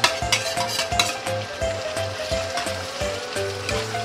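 Green beans and mushrooms sautéing in a pan, a loud continuous sizzle with bursts of spatter and rhythmic stirring scrapes, close up and without speech.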